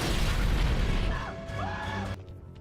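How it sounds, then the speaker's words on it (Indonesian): A bomb blast in an animated zombie story: a loud, dense, rumbling burst that hangs for about two seconds with a faint tonal whine inside, then stops abruptly. "tepat saat bom itu meledak"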